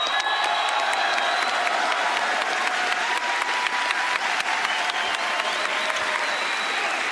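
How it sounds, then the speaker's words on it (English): Sustained applause from a large live audience at a Rainbow Six Siege Year 11 roadmap and Season 1 reveal panel, greeting the game's new creative director; steady dense clapping throughout, with faint cheers mixed in. "Please join me in thanking the new creative director of Siege, Joshua Mills."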